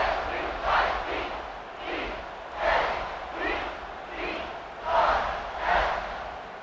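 A home crowd in the College Football 26 video game roars in rolling waves, swelling and fading several times in a distant stadium wash.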